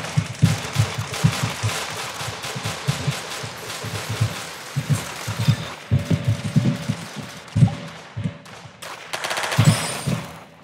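Dual pistols fire in the shooter game Arsenal in rapid, rhythmic bursts of sharp cracks, close and loud, with short pauses between volleys and a final flurry near the end.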